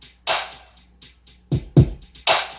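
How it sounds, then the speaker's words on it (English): A sparse verse drum pattern programmed with Logic's built-in instruments, a few kick thumps and bright snare or cymbal hits, unhurried and played alone. "This is our percussion for the verse."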